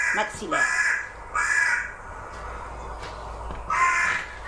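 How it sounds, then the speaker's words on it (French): A crow caws in a cemetery, three or four loud, harsh calls spaced a second or so apart, close by, with faint background sound between them. "Tiens, un corbeau."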